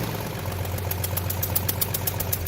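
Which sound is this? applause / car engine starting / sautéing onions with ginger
car engine starting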